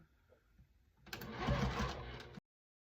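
A sewing machine stitching black thread along the handle of a fabric gift bag, running in one short steady whirring burst of about a second and a half after a quiet pause, close up and alone before stopping abruptly.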